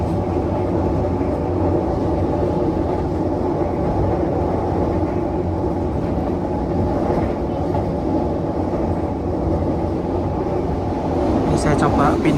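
Interior of a passenger train on the Caruban to Solo route, a steady loud rumble of wheels and carriage noise throughout, with a little faint chatter in the background.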